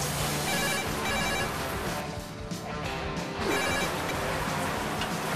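A telephone rings over and over with a steady electronic trill, filling the whole stretch loudly and without pause, and no voices can be heard.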